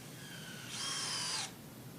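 A power drill whirs in one short, loud burst of under a second as it drives a screw into wooden boards for an axe throwing target, with faint background hum around it.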